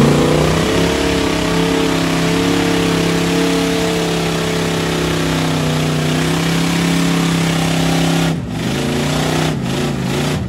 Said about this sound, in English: Sounds like a gasser, old body style GMC.